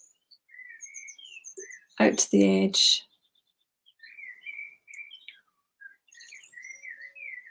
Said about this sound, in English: The birds are so happy.